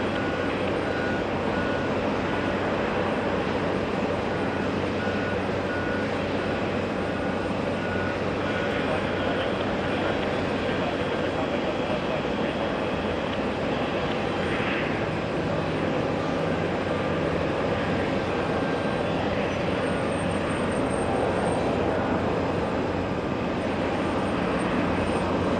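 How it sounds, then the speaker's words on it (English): An Asiana Airlines Airbus A350-900 heavy jet departs JFK with a continuous, even engine roar at moderate distance that holds for the full length, with faint voices over it. "We have a departure, heavy departure, getting a move on."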